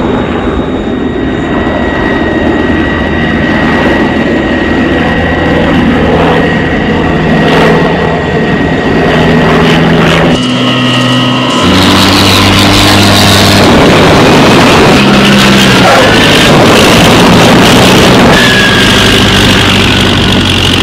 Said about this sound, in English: And Alan, in a few moments, I'm going to open up my jet engines.